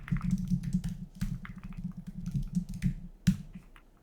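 Typing on an MQ80 computer keyboard, a quick, close run of light plastic key clicks and taps that keeps going with small pauses, over a low steady room hum.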